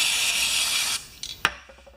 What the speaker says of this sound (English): So I'm just going to clean up the head gasket for now.